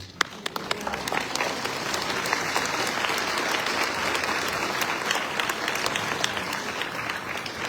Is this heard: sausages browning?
no